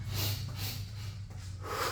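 Heavy breathing from someone resting between leg exercises in a garage workout, loud, close and continuous, with forceful snort-like exhales and rhythmic airy bursts over the two seconds.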